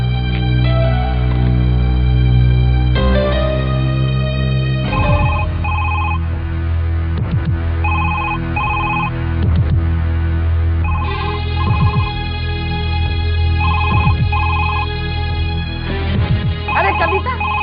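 A telephone rings in a Hindi-Marathi family drama scene, a repeating electronic ringtone pattern over a loud background music bed, with no speech over it.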